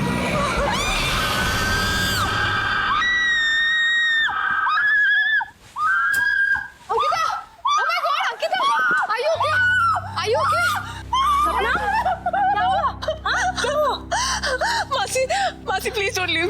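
A girl in a horror drama screams shrilly several times in quick bursts with gasping, then frantic voices follow over a low, droning music bed.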